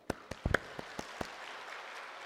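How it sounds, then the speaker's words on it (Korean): A church congregation at a Sunday evening service claps quietly: a few scattered hand claps at first, then a soft, even wash of applause from a distance. "주님께 영광의 박수를."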